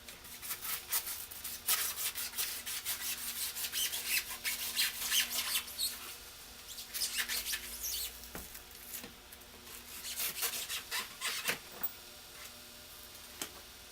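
Foam block being trimmed by hand, ahead of carbon fiber stiffening work: a steady run of close, dry scratchy scraping and crisp ticking cuts, with sharper snaps in bursts, and no talking.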